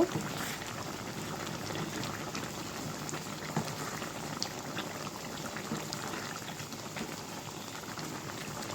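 Chicken simmers in a covered pot with a continuous low bubbling and gurgling, a soft, even boil that stays close and quiet from start to finish.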